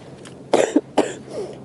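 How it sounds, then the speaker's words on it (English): Two or three sharp coughs in a row, close and fairly loud, with a short throat-clearing rasp between them and nobody speaking. "Why am I coughing?"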